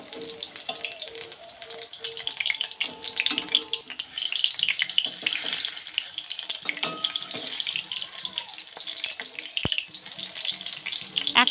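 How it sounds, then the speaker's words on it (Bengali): Bok flower fritters frying in hot oil give off a steady, dense crackling hiss that runs throughout, with faint intermittent background clatter. "এক পাশটা হলে পরে এইভাবে কিন্তু উলট পালট করে লালচে করে কিন্তু এটা ভাজা লাগবে।"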